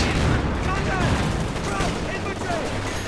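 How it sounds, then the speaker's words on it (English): A grenade and dense gunfire rattle through a battle in the Company of Heroes 2 strategy game, a constant barrage of overlapping shots and blasts filling the mix while someone talks over it. "We're throwing a grenade back at them, more kills."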